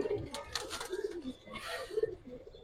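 Cobra pigeons, a domestic breed kept in a loft, coo in low repeated phrases at close range, with some background noise and brief higher chirps mixed in.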